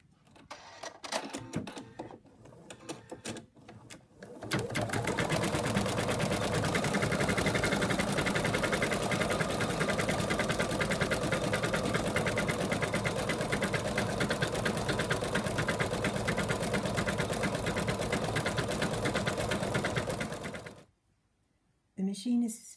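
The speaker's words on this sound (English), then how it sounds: "The machine is finished embroidering the white of the eyes, and now it's going to do the pupils." A computerized embroidery machine stitches an in-the-hoop zipped ladybug purse, its rapid needle chatter running steadily for about fifteen seconds after a few starting stitches, then stopping abruptly.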